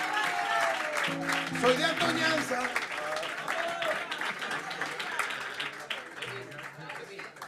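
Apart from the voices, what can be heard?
audience applause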